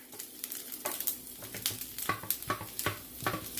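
Shrimp, eggs, broccoli, cabbage and onions for shrimp fried rice hiss in a hot pan, with a steady sizzle broken by repeated scraping stir strokes close by.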